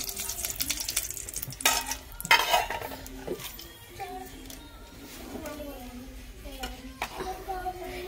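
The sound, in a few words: cashews and raisins frying in ghee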